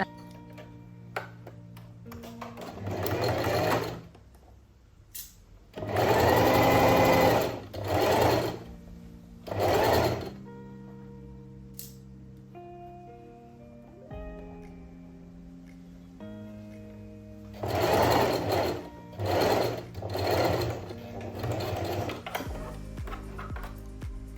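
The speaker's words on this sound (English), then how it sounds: "we're going to go ahead and stitch them together with a 1 centimeter seam allowance" A sewing machine stitches a seam in dress fabric, running in loud, steady bursts of several seconds that are separated by quiet pauses and small clicks as the fabric is adjusted.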